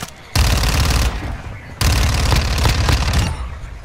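Shotgun fire in a video game: two dense bursts of loud, booming shots, each lasting over a second, with a short, quieter gap between them.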